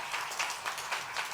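A church congregation at a Sunday worship service applauds an elder, steady broadband clapping from many hands at moderate, slightly distant level, with no talk over it.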